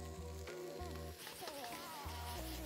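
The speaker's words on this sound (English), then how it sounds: "Oh, I love that sizzling sound." Noodles and mange tout fry in a hot pan for chicken chow mein, giving off a steady, close hiss. Music plays underneath.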